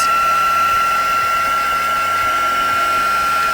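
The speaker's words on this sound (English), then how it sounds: "I'm just going to go over it lightly with the heat gun, see if we can speed up the drying of the embossing paste" A heat gun runs continuously at close range, drying embossing paste on a mixed media card, giving a steady, loud blowing whoosh with a constant whine and no talk over it.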